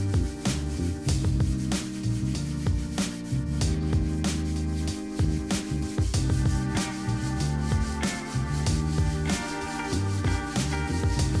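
A Scotch-Brite pad works Odie's oil finish into white oak with continuous close rubbing and scrubbing, and faint periodic clicks run throughout.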